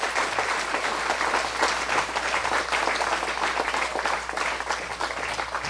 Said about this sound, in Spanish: Calurosos aplausos,